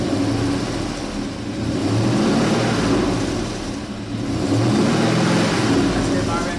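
Truck engine with an aggressive exhaust, blipped from idle so the revs swell and fall twice in a loud, close, steady roar, with voices talking over it.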